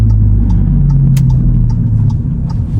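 Audi with a DQ200 DSG gearbox, recently failed, pulling away and shifting up quickly, a steady close engine rumble and drone running throughout with faint ticking clicks above it.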